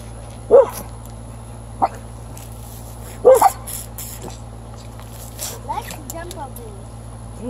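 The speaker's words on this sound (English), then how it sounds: "What are you barking at, Coco?" A dog barks a few sharp times, spaced out at moderate distance, with quiet household background and some soft vocal sounds.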